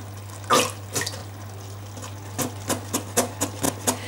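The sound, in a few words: pouring about 100 ml of water into tomato sauce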